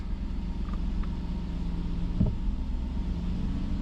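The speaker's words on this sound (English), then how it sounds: "we're idling just fine" An Aston Martin V8 Vantage engine idles in neutral, a low steady rumble close by, broken by a couple of small mechanical clicks and a faint knock.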